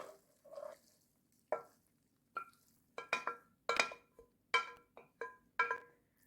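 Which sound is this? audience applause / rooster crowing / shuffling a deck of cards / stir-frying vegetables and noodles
stir-frying vegetables and noodles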